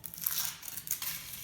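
A Kinder Surprise egg wrapper crinkles and crumples close up in a short burst of foil rustling, without voices.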